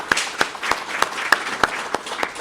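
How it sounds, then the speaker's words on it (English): Audience at a Rotary-hosted youth recognition awards event applauds the nominees in a short burst of mixed claps with several sharp, evenly spaced louder claps standing out from the crowd. "I think give them a round of applause"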